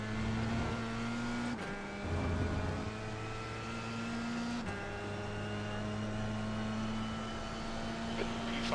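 A race car engine drones at steady high revs in a racing video game at Portimão, with gear shifts breaking the whine at a couple of points, moderately loud and continuous.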